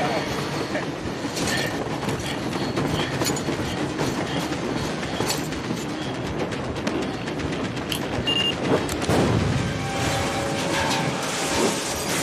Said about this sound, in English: I'm going to die from the bloody train, Oikos!